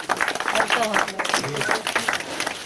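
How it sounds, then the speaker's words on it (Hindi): Men in the audience clap together at a journalists' honouring ceremony in Damoh, a brisk patter of close hands mixed with talking voices that continue over the clapping. "और आप सब पुरुष वर्ग तालियां बजाएं।"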